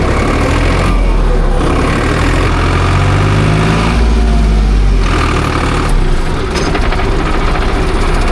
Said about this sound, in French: c'est un petit 3 cylindres